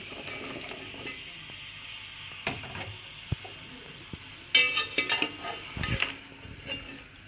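Potatoes frying with cumin in a pan, a soft steady sizzle under occasional stirring clinks and scrapes of a utensil against the metal, busier toward the end.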